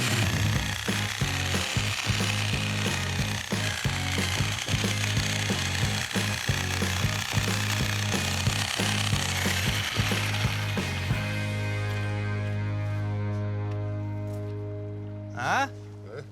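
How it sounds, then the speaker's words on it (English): A Sawzall reciprocating saw cuts a tree stump flat at a lakeside deck site, a loud rapid rattling buzz running steadily for about eleven seconds before it winds down and stops. "If you can grab a Sawzall, we'll make it more flat"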